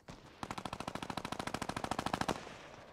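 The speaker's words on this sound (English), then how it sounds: "Gunfire." Rapid automatic gunfire in Fortnite Battle Royale, a single sustained burst of evenly spaced loud shots lasting about two seconds, then fading out, no voices.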